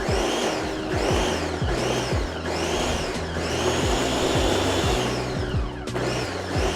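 A blender pulses salsa made with chipotles and lime juice in a run of short, loud whirring bursts that each spin up and cut off, ending in one longer steady blend, with no talking.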